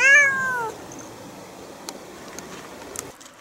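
A single loud, drawn-out meow at the start from a cat in a pet tent at a campsite, then quiet room noise with a few faint clicks and rustles.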